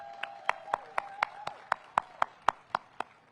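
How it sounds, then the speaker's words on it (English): A lone pair of hands claps about a dozen times in a steady, even rhythm, close and distinct over a quiet background, for Mayor Muriel Bowser at the opening of the Downtown DC Holiday Market. "Please give a rousing round of applause for our distinguished Mayor, Muriel Bowser, who is here today"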